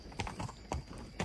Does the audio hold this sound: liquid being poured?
no